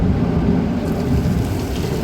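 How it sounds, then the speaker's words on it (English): Artificial rain from sprinklers falls across the Universal Studios backlot, a loud, dense, steady hiss of spray and droplets throughout, with no voices. "Just like that, we can have rain on the Universal lot."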